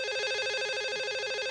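A telephone rings steadily in a Spanish-language broadcast studio, giving a loud, continuous warbling electronic tone with no talk over it.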